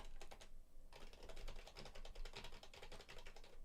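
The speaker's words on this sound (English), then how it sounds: "here is a sample of me typing some stuff on my keyboard and clicking" Rapid, close keystrokes clatter on a computer keyboard in dense bursts, with a brief pause, recorded through a $400 Shure SM7B microphone; no voices.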